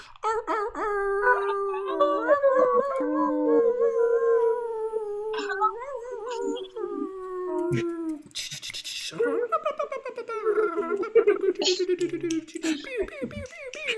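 A group of people imitate a wolf howl with their voices at an open-mic improv jam, their long, rising and falling howls overlapping in loud, wavering chorus. A brief pause follows before a second round of howls.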